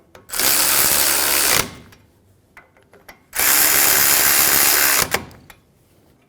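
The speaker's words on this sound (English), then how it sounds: "Get the bracket bolt started. Snug the bolts down." A power tool snugs the brake caliper bracket bolts on a Honda Pilot. Two loud, sustained runs of about a second each, separated by clicks and small handling noises, close up and with no one talking.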